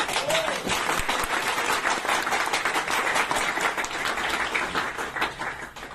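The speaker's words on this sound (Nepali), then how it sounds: "यसमा तपाईँहरू सहमत हुनुहुन्छ भने फेरि ताली बजाउनु" An audience applauds after a speech at a public gathering, with dense, continuous clapping from many hands close by that holds at full strength before thinning slightly at the end.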